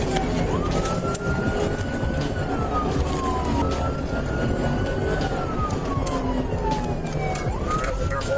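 Police car sirens wailing steadily during a high-speed chase through city streets, with pitch sweeps rising and falling over a constant loud roar of engine and road noise.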